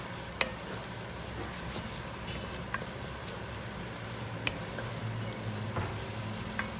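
White wine simmers and reduces with vegetables in a pan for a rabbit ragu, making a soft, even sizzle and bubble with occasional small pops and clicks, close and low in level, with no talk.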